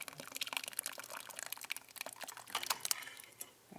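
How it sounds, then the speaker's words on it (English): Korean rice mash is poured through a double strainer with fine mesh below and coarse mesh above. The liquid splashes and trickles in faint, irregular patters and drips, close by, with no talk. "Pour a little bit of this guy in. This is the rice mash."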